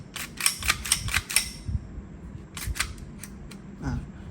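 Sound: Glock BB gun slide cycling and test firing

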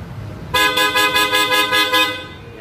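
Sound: Hella Supertone horn on a motorcycle honking

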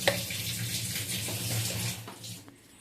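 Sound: cooking oil being poured into a hot pan

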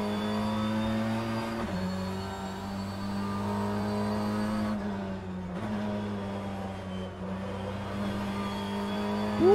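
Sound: BTCC race car engine in sim racing video game

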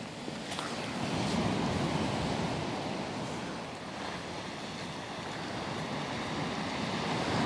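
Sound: ocean waves rolling

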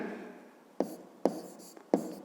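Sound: writing letters on a board

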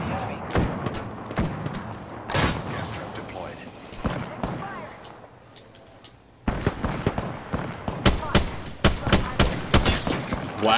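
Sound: gunfire in the video game Apex Legends

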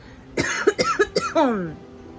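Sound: cough

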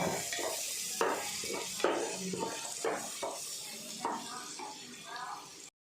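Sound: crushed ginger and green chilli sizzling in ghee

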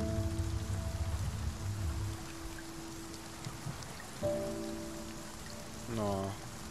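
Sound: rain falling in the video game Spiritfarer

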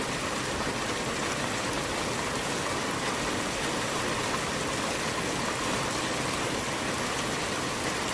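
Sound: rain falling during night fishing

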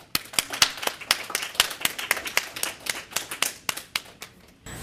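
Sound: audience applause

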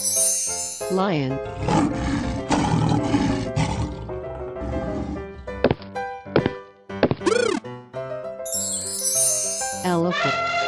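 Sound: lion roaring

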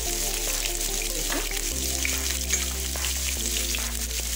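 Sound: onion, garlic and mustard seeds frying in oil

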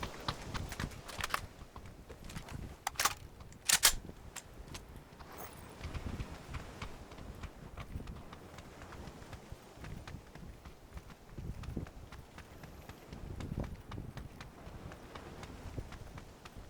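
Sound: footsteps in video game PUBG

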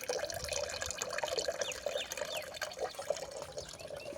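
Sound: water dripping out of plant pots

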